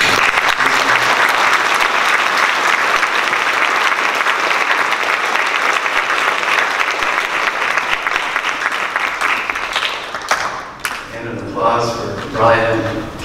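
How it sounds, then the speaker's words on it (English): An audience applauds at a teaching awards ceremony, a dense sustained clapping that thins out toward the end as a speaker begins talking over the last scattered claps. "So an applause for"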